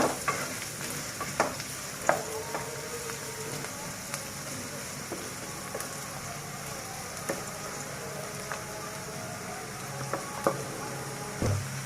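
Onions fry in oil for a beef tripe bhuna, a continuous hissing sizzle punctuated by repeated sharp spatula scrapes and clinks against the pan, close and without talk.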